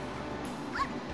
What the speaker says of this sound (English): Dogs, dogs, other dogs, dogs.